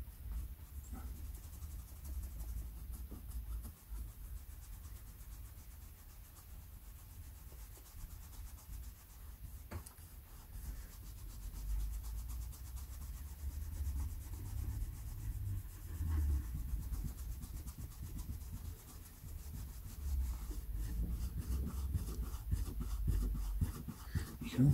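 Old glue-stuck paper being scraped and teased off a vintage Star Trek collectible after soaking in polish, a continuous close scratchy rubbing that grows slightly louder toward the end, with no talking.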